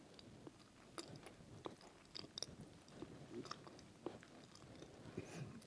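Close, quiet chewing and crunching from mouth movement during a home dance warm-up, with irregular soft bites spread across the stretch.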